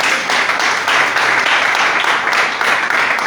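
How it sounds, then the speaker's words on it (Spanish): A church congregation bursts into loud, sustained applause, dense overlapping clapping filling the space for several seconds with some cheering voices mixed in. "Denle un fuerte aplauso al Rey."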